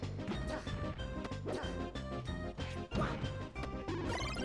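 Hits and smashes from a Super Smash Bros tournament match with Roy on stage, dense percussive impacts stacked over loud game music and crowd noise, with steady repeated strikes throughout.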